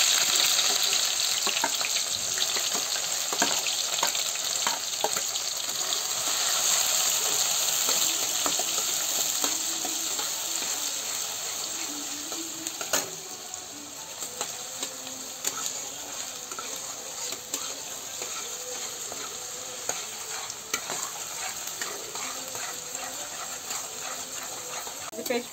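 Hot oil frying in a pan while making rajma gives a continuous broadband hiss that holds steady, then softens slightly midway and carries on evenly to the end.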